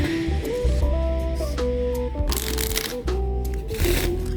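Playing cards are riffled in a waterfall shuffle, giving dense, crisp fluttering bursts over steady background music that build and repeat across the span.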